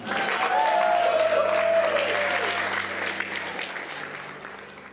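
A wedding crowd applauds the maid of honour with loud, sustained clapping that slowly tapers off, with a few cheers and a voice over it.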